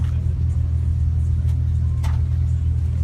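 A Datsun car idles at a Stance Nation car show in Nagasaki, its engine giving a loud, steady low rumble close by with faint background crowd noise.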